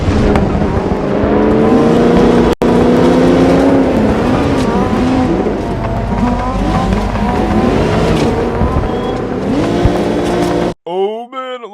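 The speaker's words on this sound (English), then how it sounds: "it looks like Great Lakes Import spun out with their Group B Rally Monster" A detuned Group B rally car at a rallycross event races with a loud, continuous engine drone and rising and falling revs, with tire squeal as it spins out, then a sudden cut to a brief different sound.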